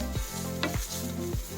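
Chili oil hitting chicken pastil in a hot pan, a loud steady sizzle with a few sharp stirring scrapes repeating about every half second, no voices.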